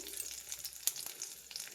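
Four or five crushed garlic cloves hit hot oil in a tempering with chillies for tomato saaru, giving a close, steady crackling sizzle with one sharp pop partway through.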